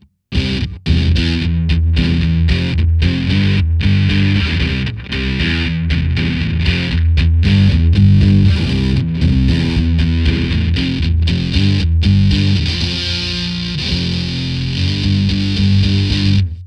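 Loud electric guitar riff through an Electro-Harmonix Sovtek Deluxe Big Muff Pi fuzz pedal on its high Q setting, with choppy palm-muted chords and a sharper, more focused tone, played alone before the notes cut off.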